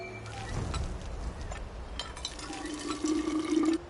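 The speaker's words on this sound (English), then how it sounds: "A water pump." A water pump being worked in the video game We Happy Few, a low splashing, pouring flow of water with faint clinks, steady throughout and building slightly louder toward the end, with no voices.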